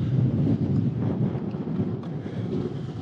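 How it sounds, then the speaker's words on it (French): Continuous low rumbling buffet of wind hitting a microphone while cycling on a bike path, steady and fairly loud with no other sounds standing out. "Oh le vent."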